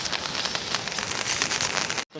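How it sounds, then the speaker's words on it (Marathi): Heavy monsoon rain falls over rice fields in Konkan, a dense, continuous hiss of drops that holds steady before cutting off abruptly at the very end. "थोडासा पाऊस गेला होता आणि तो तिकडे समोरून येतोय बघा, जोरदार पाऊस."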